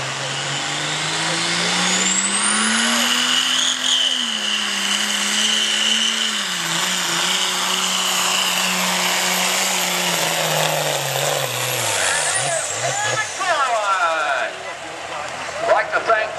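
A 2003 Duramax diesel truck in the 8,000 lb class at a county fair truck pull, with a loud sustained engine roar and turbo whine that rise and hold for about ten seconds before dropping off. An announcer talks over it.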